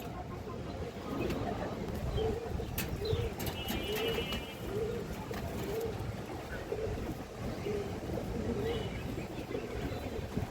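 Pigeons, a pair of three-barred red-geared birds, coo in repeated soft rhythmic phrases at a steady pace, with faint chirps and background murmur throughout.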